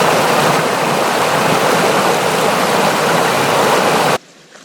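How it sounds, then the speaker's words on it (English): Small creek in a ravine along the Ouachita Trail, water rushing and tumbling over rocks in a dense, loud, steady roar that cuts off abruptly near the end. "Come to this nice little creek right here."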